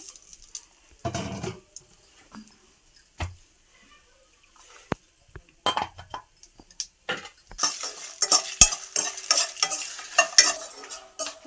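Dried red chillies stir-fried in a pan for an old-style black gram chutney, with a spatula scraping and tossing in bursts over a light sizzle, growing busier and louder toward the end, close by with no talking.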